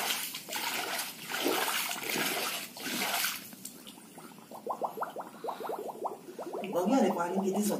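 Water pours into a silted stone cistern at Kaldurg Fort in Palghar, beginning as a splashing gush under a person's talk and changing to rapid gurgling glugs and trickles near the end.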